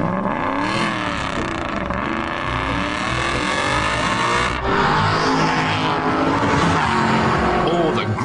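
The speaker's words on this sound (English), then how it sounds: "the lusty burble of an Aston Martin" A powerful Aston Martin engine burbling and revving loudly up close, pitch rising and falling, with a voice talking over it.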